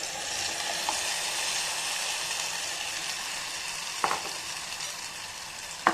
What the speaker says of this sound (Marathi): आता आपण फोडणीत टाकूया हे कढीचं मिश्रण.